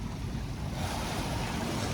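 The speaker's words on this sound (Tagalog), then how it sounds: "dahil ay malakas ang alon" Strong sea waves breaking at Manila Bay's Dolomite Beach, a dense continuous roar of surf mixed with wind buffeting the microphone, steady and loud throughout with no talk.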